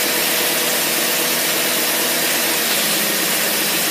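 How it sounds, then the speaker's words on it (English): A small engine fitted with an Autolite carburetor runs steadily on a dyno, giving a loud, continuous broadband roar with a constant drone and no pauses or speech. "we're gonna turn on the dyno now."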